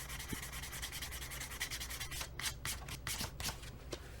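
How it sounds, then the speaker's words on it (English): Sandpaper rubbed by hand across a guitar gives a steady, close, rhythmic scratching that turns to quicker, sharper strokes toward the end. No voices are heard. "we're done with that sandpaper"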